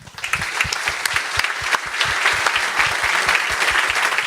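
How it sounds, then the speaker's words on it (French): Close, lively applause from an audience at an innovation awards evening, dense clapping with some thumping hits near the microphone, swelling slightly partway through and continuing to the end. "On peut l'applaudir."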